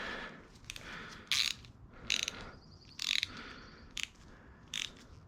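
A hand ratchet loosens the spark plugs on a 2007 Subaru STI. Several bursts of rapid clicking come close and fairly loud over a steady low background hum, with pauses between the strokes.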